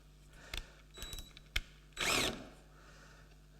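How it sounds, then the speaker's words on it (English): A tap being turned by hand to thread a hole at a woodworking bench, heard as a few short metallic clicks and scrapes and then one louder grinding burst of cutting, with no talking. "I'm just going to turn it gently and thread the hole"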